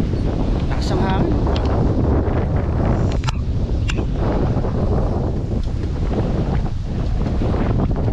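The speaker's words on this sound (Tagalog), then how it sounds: "Lakas ang hangin." Strong wind buffets the microphone outdoors beside a shed after lawn mowing in summer in Canada, a loud continuous low rumble with gusty swells, and a voice speaks briefly over it.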